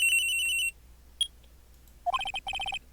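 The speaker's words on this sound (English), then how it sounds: "At around 10:30, I received a call on my cell phone." Cell phone ringtone from the video game Phoenix Wright: Trials and Tribulations, sounding as two bursts of rapid, repeating electronic beeps separated by a short quiet gap, clear and close.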